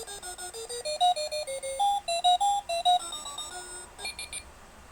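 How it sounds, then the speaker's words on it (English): A talking alarm clock cycles through alarm tones: short repeated electronic beeps and chirping melodic patterns that change pitch, bright and clear with no talk over them. "So those are different alarms."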